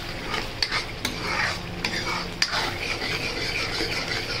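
Masala cooking in hot oil for home-style shahi paneer, a steady close sizzle with a few light clinks of a spoon against the pan, no voices.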